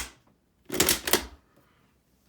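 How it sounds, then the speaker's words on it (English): A WW2 Cricket clicker is snapped twice in quick succession, two sharp, bright metallic clicks close to the microphone, separated by a brief gap, with quiet before and after. "I might as well just be clicking the Cricket, a couple more times"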